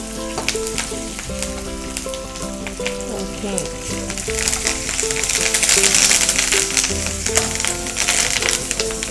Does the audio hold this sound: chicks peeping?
no